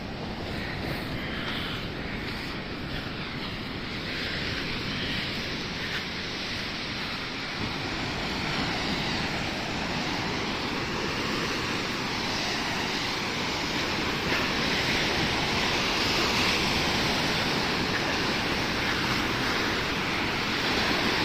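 Rough sea surf rolls onto the sandy beach at Varkala as a continuous, loud roar of breaking waves mixed with wind buffeting the microphone, with no voices.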